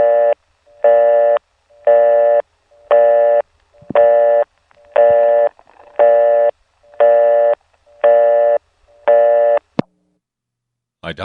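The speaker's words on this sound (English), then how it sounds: "I dialed 1 and let it time out, and we got that busy signal, recognizable as the older tone plant that you found almost exclusively on NX1s" A telephone busy signal from an older tone plant of the kind found on NX1 switches, reached by dialing 1 and letting it time out, sounds as nine loud, evenly spaced tone bursts, followed by a click and a near-silent pause.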